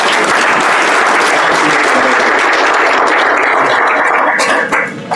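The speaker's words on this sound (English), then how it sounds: "We got to give a star at least one more round of applause." Loud, dense round of audience applause for a guest, many hands clapping continuously and close, tapering slightly at the very end.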